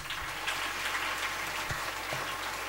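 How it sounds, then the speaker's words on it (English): An audience at a Catholic educational institutions association event in Uttar Pradesh claps to welcome the judges, dense steady applause from many hands filling the room, with no talking. "big round of applause."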